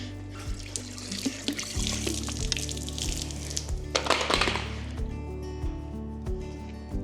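A running tap streams water while a dog is being rinsed, a steady close splashing flow broken by shifting gushes and splatters as the water hits fur and the basin.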